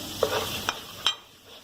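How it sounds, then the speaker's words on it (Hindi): Garlic goes into a hot pan while making chicken shashlik gravy, giving a soft sizzle with a few sharp stirring or scraping knocks, close and fairly loud, with no talking. "ये गार्लिक डाल रही हूँ,"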